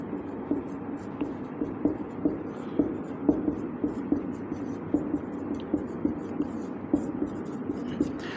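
Writing on a board during an agriculture class lesson on irrigation: rhythmic scratchy strokes tap out steadily and close, over a low constant hum, with no talking.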